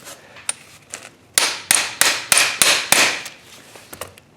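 Metallic hammer taps knocking a CV axle boot into place, a few light knocks and then a burst of heavy, evenly spaced strikes, close up, with a couple of softer taps trailing off.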